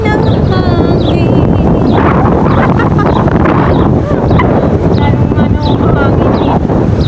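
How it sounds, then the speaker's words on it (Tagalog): Cold wind gusts steadily across the stairs of a park, a loud, continuous rushing roar buffeting the microphone throughout, with no voices heard. "Malamig ang simoy ng hangin."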